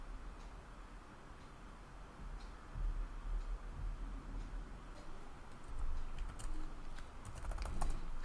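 A command is tapped out on a computer keyboard, producing clusters of quick, close, light key clicks with short pauses between bursts, growing busier toward the end, with no talking.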